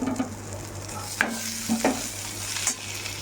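A spiced samosa filling with turmeric being stirred and fried in a pan: a few distinct scraping stirs over a soft, constant sizzle, close and fairly quiet, with no voices.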